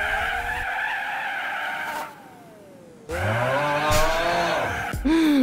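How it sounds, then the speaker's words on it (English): Tires of a 922-horsepower Fiat Panda screech in the Gran Turismo 4 racing game, loud sliding squeals over a droning engine, with a short quieter gap in the middle before the skidding and revving resume. "the tire screeching is real"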